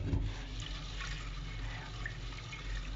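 Water poured into a cooking pot for Kerala sadya kurukku kalan, a short steady close stream splashing into liquid over a few seconds.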